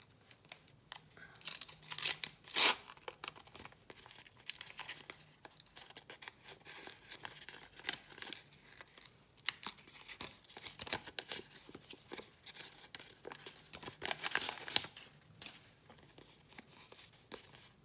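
Paper and plastic wrapping being torn and crinkled open in short bursts, with a few sharp rips, quiet and close.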